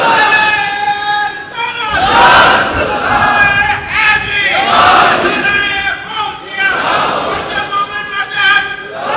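A large crowd at a religious gathering chants the takbir slogan Allahu Akbar, loud rhythmic shouts repeating in waves of massed voices.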